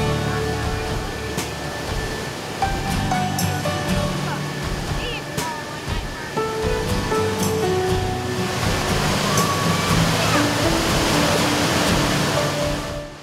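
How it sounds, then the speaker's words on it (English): Stonewall Falls waterfall pours in a steady, loud broadband rush throughout, with faint tonal traces layered over the continuous roar. "We had the waterfall to ourselves for more than an hour."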